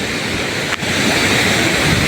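Rain-swollen streams rush loudly and continuously after a downpour, a dense roaring wash of flowing water up close, with brief buffeting from wind on the microphone.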